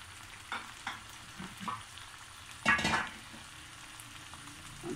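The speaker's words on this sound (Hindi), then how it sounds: "अब मैं इसमें टमाटर डालूंगी" Tomatoes hitting hot oil in a home kitchen pan for an achaari karela dish, a brief burst of sizzle with spoon scrapes around it, fairly close and moderately loud against a quiet background.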